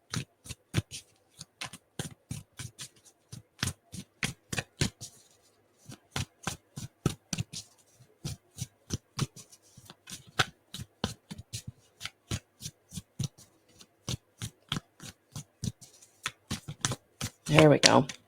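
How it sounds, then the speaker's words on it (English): Tarot cards are shuffled by hand for a pick-a-card reading, a long run of crisp, rapid riffling snaps in quick bursts with short pauses, close up, and a voice breaks in briefly at the end. "So let's pull some more cards and see what else Spirit wants to bring in."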